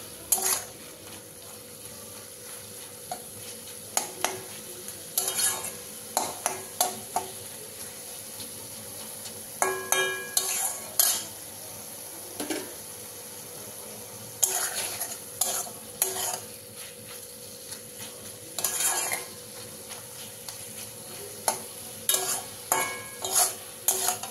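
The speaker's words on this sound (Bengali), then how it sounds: "এবার মশলার সঙ্গে পনিরটা একটু কষাবো" Paneer stirred and fried with spices in a pan, with a soft continuous sizzle broken by repeated sharp scrapes and clinks of a spatula against the metal, close and alone without talking.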